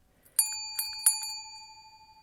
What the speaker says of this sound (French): vous pourrez entendre ce bruit de cloche